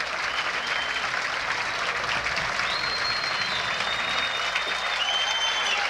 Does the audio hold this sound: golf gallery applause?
yes